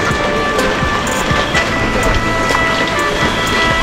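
Steady rain falls over an open market in Thailand, a dense close hiss with scattered drip and patter accents lasting throughout, no talk.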